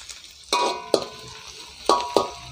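Onions sauté in a pan for Sri Lankan chicken kottu roti, a soft steady sizzle punctuated by several sharp scrapes and clinks of a utensil stirring against the pan, close and without talk.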